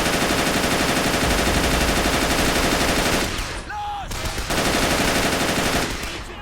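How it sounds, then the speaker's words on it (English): Soldiers firing guns inside a building in the WWII strategy game Men of War, dense continuous machine-gun and rifle fire with a brief lull before the barrage resumes. "Still men firing inside that building"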